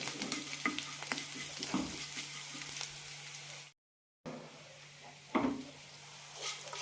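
A spoon stirs curd semiya in a pan with soft scraping and light clinks against the metal, close and fairly quiet, broken by a brief silent gap before the stirring resumes.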